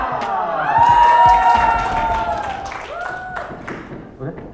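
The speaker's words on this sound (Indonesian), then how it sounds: "Sekali lagi tepuk tangan yang meriah kelompok portfolio keempat dari kelas C7" An audience applauds and cheers loudly for a student project group at a school showcase. The clapping and shouting swell near the start, then taper off over a few seconds.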